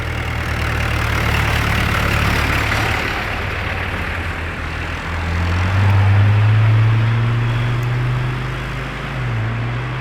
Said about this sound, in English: I think I heard an hybrid V8